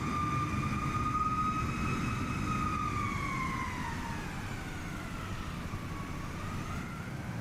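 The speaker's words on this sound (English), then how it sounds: "MD-88 is making a lot of noise here" An MD-88 airliner in Microsoft Flight Simulator 2024 gives a loud, steady engine roar with a high whining tone that slowly bends down and rises again, with no talking.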